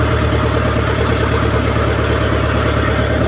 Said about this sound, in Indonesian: Pakai mesin Yanmar TF300H.